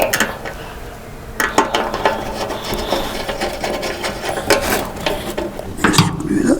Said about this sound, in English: Lock them down with a 10mm socket.